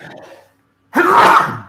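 A single loud, close sneeze bursts out after a brief silence, preceded by faint talk in a podcast setting.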